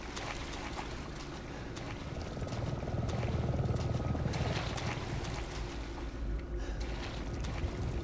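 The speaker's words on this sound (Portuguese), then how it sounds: "Um helicóptero aqui, moço!" A helicopter in the video game Resident Evil 7 thrums with loud, steady rotor chop that swells toward the middle and stays close and continuous, with no talk.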